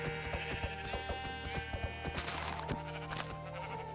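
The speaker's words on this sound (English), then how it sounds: "Hold on, let me just kill this sheep." Sheep bleating in a video game, a run of loud repeated bleats over rhythmic background game music and soft clip-clop steps.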